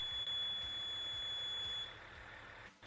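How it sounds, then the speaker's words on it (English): A Grove crane's RCI load warning buzzer, a thin high-pitched electronic tone sounding steadily over low engine rumble, fairly faint and alone without talk. "An intermittent warning buzzer will also be heard."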